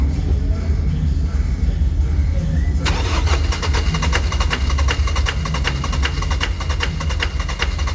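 A Ford Ranger T6 2.2 diesel engine cranks continuously without catching, a loud, steady, rapid starter churn that turns harsher and more metallic midway and keeps going to the end.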